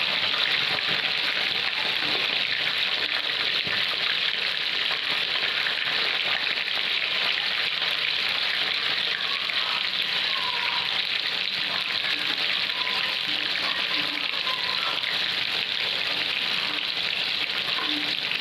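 Mackerel rava fry frying in a pan: a dense, continuous hiss of hot oil sizzling close up, steady and loud for the whole stretch, with no talking.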